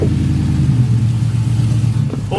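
An LS-swapped OBS Chevy truck drives up, its engine a loud, steady low rumble with a slight rev, close by and unbroken for the whole stretch.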